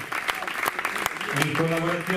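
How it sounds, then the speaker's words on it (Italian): Audience applause at a local football club's team presentation, a burst of clapping from a modest crowd that continues steadily while someone speaks over it through a loudspeaker. "un grandissimo applauso ai 20 giocatori"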